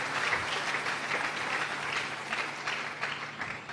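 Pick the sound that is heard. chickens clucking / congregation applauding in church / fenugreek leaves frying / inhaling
congregation applauding in church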